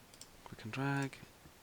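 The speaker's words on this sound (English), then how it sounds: "click and drag, click on that point to stop that line, click and drag" A few soft computer mouse clicks while tracing a fashion figure template in Adobe Illustrator, close and quiet, with a brief tonal hum in the middle.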